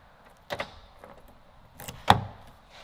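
A door handle on a 2022 Honda Civic Si is pulled, giving a few sharp mechanical clicks and clunks close by. The loudest snap comes near the end, over a quiet background.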